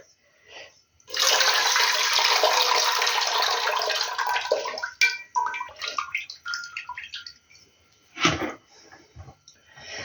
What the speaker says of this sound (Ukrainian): Пройшло 15 хвилин, буду зливати воду.